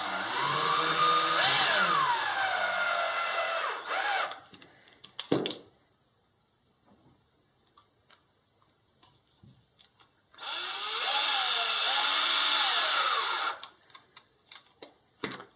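Power driver whirring in two sustained bursts, driving M4 by 20 screws into a bumper block for a Traxxas Stampede 4x4 front bumper, separated by a quieter stretch of small handling clicks and taps.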